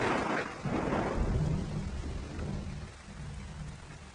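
Steady heavy rain falls with a deep rumble of thunder rolling through the first seconds, then eases into a continuous wash of rainfall.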